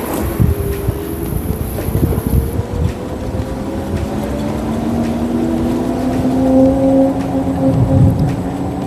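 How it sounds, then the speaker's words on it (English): A Simple One electric scooter carrying a pillion rider climbs a slope, its motor a rising whine under steady wind rush, with a few bumps near the start and the tone climbing as it gains speed. "let's find out how easily it can climb this in ride mode"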